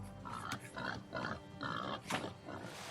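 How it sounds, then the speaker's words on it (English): A cartoon hunting pig gives a series of short, close grunts and snorts in quick bursts, moderately loud, with no talk over them. "This here's my hunting pig, Mojo."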